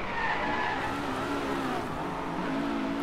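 A race car in the DriveClub racing game brakes hard, its tyres skidding and squealing over a steady, loud engine roar that runs the whole time.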